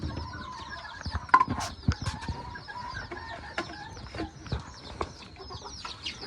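Old English Game Bantam chickens and chicks in a barn: soft clucks and high chick peeps overlap continuously at close range, with scattered louder calls and light scratching.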